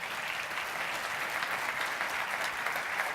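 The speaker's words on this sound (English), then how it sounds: "round of applause for the panel." Audience applause after a panel discussion at a business conference, steady dense clapping from a large crowd filling the room, sustained and fairly loud with no break.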